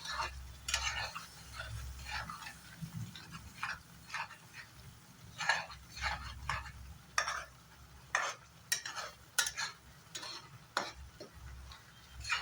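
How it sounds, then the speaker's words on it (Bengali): Spice masala fries in oil for a paneer dish, a faint background sizzle broken by repeated sharp scrapes and taps of a spatula stirring in the pan at an irregular pace. "এখন ভালো করে মশলাটা ফ্রাই করে নেব যতক্ষণে তেল ছেড়ে না যায়।"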